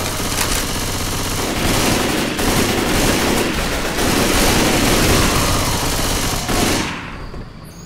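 Sustained machine gun fire in Left 4 Dead 2, loud and close, roaring almost nonstop for about seven seconds in dense rapid bursts before cutting off abruptly.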